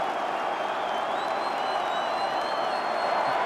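Finnish football fans in a stadium crowd cheer and applaud steadily after Kasper Hamalainen's equalising qualifier goal against Georgia, a sustained, fairly even roar of distant voices and clapping.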